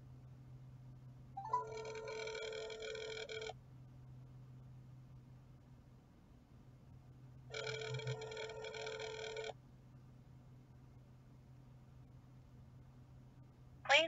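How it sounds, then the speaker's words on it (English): A telephone rings on an outgoing call in two long, evenly spaced ringback bursts separated by several seconds of quiet, over a low steady hum, heard faintly through a phone line with no talking. "Let's see if they're gonna answer this phone."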